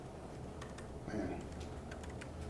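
Clicking on a computer keyboard comes in a quick, irregular run of light keystrokes, fairly faint over a low background hum, with a brief muffled thump near the middle.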